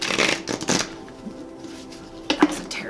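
Tarot cards shuffled by hand in quick riffling bursts, close and crisp, with a pause of quiet hum in between before another short burst.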